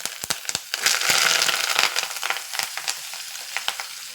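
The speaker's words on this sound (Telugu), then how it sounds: "స్టవ్ వెలిగించి ఇంకొంచెం ఆయిల్ వేసాను చూసారా ఆయిల్ వేగడానికి సరిపడే ఇప్పుడు కరివేపాకు వేసేద్దాం" Curry leaves hit hot oil in a pan and burst into loud, dense crackling and spitting that swells early on, then settles into a sparser sizzle with scattered sharp pops.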